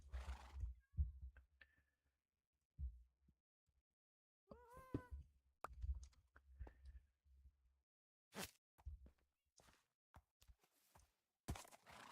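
A synthetic horse whinnies with a rising, wavering neigh, surrounded by scattered thumps, hoof clops and short clicks, with quiet gaps in between.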